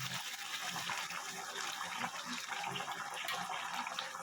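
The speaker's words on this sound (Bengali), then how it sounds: "আমি গরম জল করে রেখেছি, সেই গরম জলটা আমি দেব।" Hot water is poured into a pan of prawn curry, giving a soft, continuous rushing splash that runs steadily at low volume.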